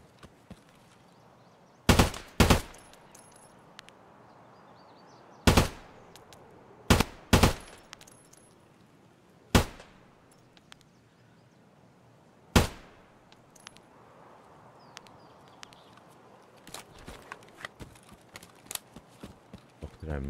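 Gunfire in the Escape from Tarkov video game: sharp, loud single shots and short bursts spread irregularly across the span, with quiet ambient noise and faint movement between them.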